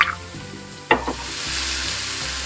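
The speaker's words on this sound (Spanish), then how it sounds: "yo tengo aquí un sartén con aceite y lo que hice es poner la carne que teníamos marinando" Marinated beef frying in oil in a pan for bistec ranchero, a steady close sizzle broken by a sharp stir or toss, with no talk.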